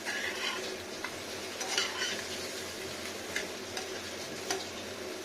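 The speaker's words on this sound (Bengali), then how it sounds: "এটা ভেজে নিচ্ছি আলুটাকে একটু হালকা করে আলু আর বেগুন" Potato and eggplant frying lightly in a pan, a continuous close sizzle with repeated ticking taps and scrapes of a utensil against the pan as the pieces are turned.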